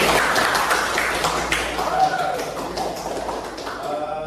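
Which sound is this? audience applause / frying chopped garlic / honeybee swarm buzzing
audience applause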